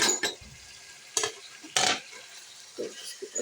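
Cream being stirred into a chicken white karahi in a pan, several short scraping strokes of a spoon with a soft sizzle underneath, close and fairly quiet.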